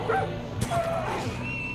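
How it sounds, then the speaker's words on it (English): A dog in the video game Far Cry 5 gives quick high yips and barks, partly masked by steady game background noise. "It's still barking."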